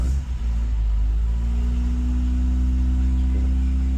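The engine of a Ford Escort Mk3 Bantam pickup idles close by with a loud, steady, low rumble, holding a constant pitch after a brief dip at the start; no one speaks.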